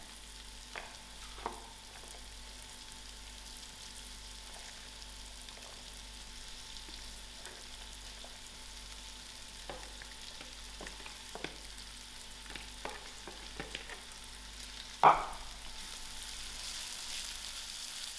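Grated green banana frying gently over a lowered flame in a pan: a faint, steady sizzle with soft stirring clicks and one sharper clatter toward the end.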